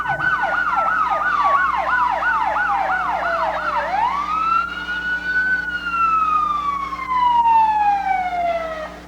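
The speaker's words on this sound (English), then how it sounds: "It's kind of hard to talk over the sirens right here below us." Loud emergency sirens wail nearby at a Christmas parade in Borger, a fast yelping pattern shifting into a long slow rise and fall, with traffic rumble underneath.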